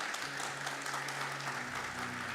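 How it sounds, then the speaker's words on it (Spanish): A church congregation at a Sunday celebration service claps together after a call to applaud, a soft, even patter of many hands with a low sustained hum of organ or keyboard underneath, fairly distant. "Amén, aplauda."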